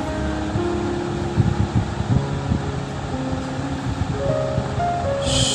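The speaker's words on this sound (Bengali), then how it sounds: "সব মশলাগুলোকে একটু নাড়াচাড়া করে নিতে হবে।" Spices including cashews, chillies and melon seeds are stirred in a pan for paneer lababdar, giving a steady sizzling hiss with soft scraping strokes from a spatula near the middle, without talk.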